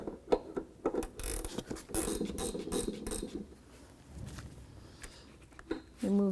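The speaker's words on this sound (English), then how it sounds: "Once it's free, you can use a ratchet wrench." Ratchet wrench working a shock absorber nut on a 1997-2001 Jeep Cherokee, quick bursts of close clicking ratchet strokes in short runs, separated by pauses and small handling noises.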